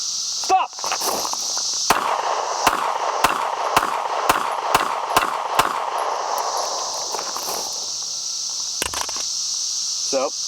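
A Smith & Wesson Shield pistol fired at a range, with a string of about eight sharp, loud shots at a fairly even pace, then a short quiet stretch with faint handling noise.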